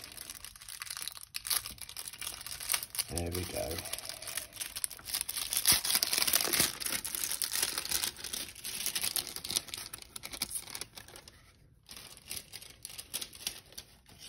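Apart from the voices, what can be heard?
wrapping of a tarot deck being nicked and torn open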